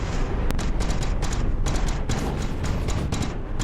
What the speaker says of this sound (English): look how far these cannons are trying to lead that thing